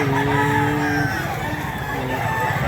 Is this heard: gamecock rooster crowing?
yes